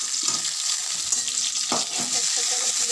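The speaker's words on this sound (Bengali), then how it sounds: "দেখুন, পটলটা ভাজা ভাজা হয়ে গেছে।" Pointed gourd (potol) fries in hot oil in a pan, producing a steady close sizzle with a few brief clinks and scrapes of a utensil.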